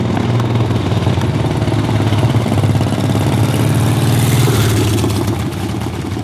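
A 1950 Harley-Davidson Panhead motorcycle engine idles steadily up close, its loud, even low-pitched chugging running throughout with a slight swell in revs partway through.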